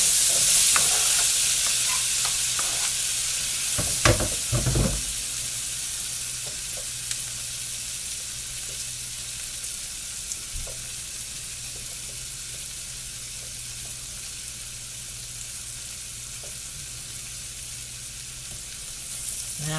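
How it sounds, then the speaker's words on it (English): Chopped chayote sautés in a hot pan for a stew-like chowder, a loud steady sizzle with a few clattering stirs and knocks early on, then continuous frying hiss with no voices. "I'm going to put this in here and let it saute."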